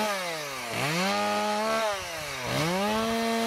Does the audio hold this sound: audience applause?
no